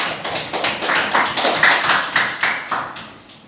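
Applause from a classroom of students, a steady run of dense, overlapping hand claps close by, holding through the moment and thinning slightly toward the end.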